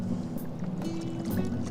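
A sea kayak rides choppy water in The Trap tide race off the Isle of Wight, with close water slaps and splashes over a steady rush of wind and waves.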